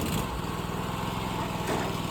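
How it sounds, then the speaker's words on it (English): A Vermeer TS-50M tree spade engine running steadily at a third to half throttle, a low, rough, continuous idle with a slight lumpy rhythm, close and loud with no talking. "the engine's only on third or half throttle, so you'll hear the engine want to die out"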